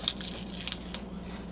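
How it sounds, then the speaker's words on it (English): Tape peels away from a sheet of paper in a painting session, giving a soft, continuous crinkly tearing sound close by with a few sharper pops along the way. "Let's peel it off."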